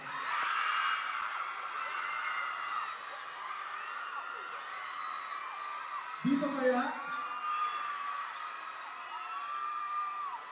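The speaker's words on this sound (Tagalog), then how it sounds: "Doon ako lalapit kung saan mas malakas yung sigawan." A campus concert crowd screams and cheers continuously at a Starpop tour stop at CMU, a dense roar of voices with a performer speaking briefly over the din.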